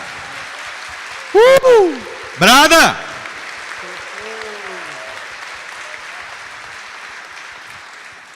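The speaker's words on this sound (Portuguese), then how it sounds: "dê para Ele uma salva de palmas" A church congregation applauds during a Sunday Mass for the Feast of the Transfiguration, a steady wash of clapping under two loud, brief shouted cries near the start.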